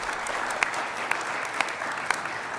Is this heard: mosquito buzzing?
no